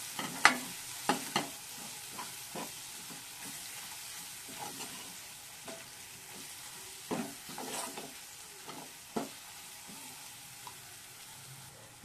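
Biryani masala with red chili powder and salt stirred into oil in a pan, a soft steady sizzle broken by scattered clinks and scrapes of a spoon, close and fairly quiet with no voice.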